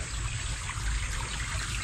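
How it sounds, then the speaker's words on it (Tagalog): A small stream of water trickles through a farm field, a steady, close hissing wash with no pauses and no voices. "Maliit na sapa. Or pwede bang sabihin nating daanan lang ng tubig."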